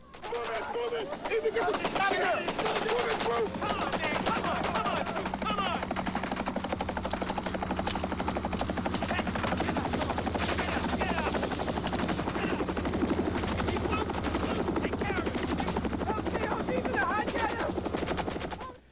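Gunfire from a battle scene in 84 Charlie Mopic, a Vietnam War film, as a dense continuous stretch of rattling automatic bursts with a droning engine-like rumble beneath and shouting voices throughout.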